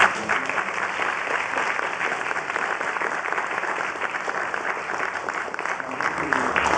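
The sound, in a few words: audience applause at a lecture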